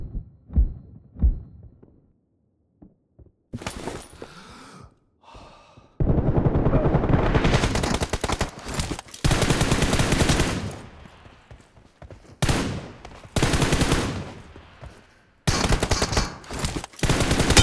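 Gunfire in a mobile shooter video game during a one-on-one team deathmatch, with loud sustained bursts of automatic fire broken by short pauses and quieter stretches of scattered sounds between them.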